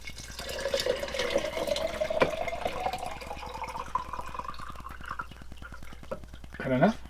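Water pours steadily into a quart jar of brown rice, a continuous splashing stream that rises in pitch as the jar fills toward the top, with a person talking nearby.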